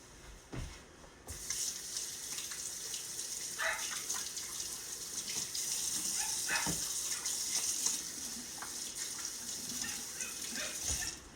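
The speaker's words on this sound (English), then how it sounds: "The next thing I'm gonna do is I'm gonna wash my hands." Tap water runs in a steady, close rushing gush as hands are washed at a kitchen sink, with occasional splashes and knocks against the basin and no talking.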